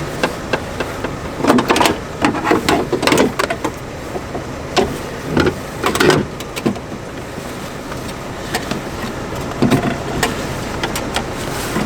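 Window glass on a 2014 Chevy Cruze being pulled up during a window regulator replacement, giving a series of loud, uneven scraping and knocking bursts close by, with pauses between pushes.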